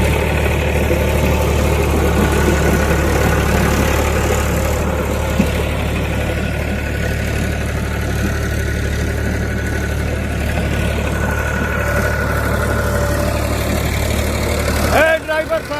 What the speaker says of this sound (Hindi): ट्रैक्टर की आवाज़ भी बड़ी मधुर है